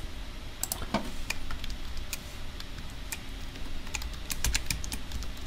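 Typing on a computer keyboard during programming work: scattered light clicks and short bursts of keystrokes, fairly close and moderately quiet, with no voices over them.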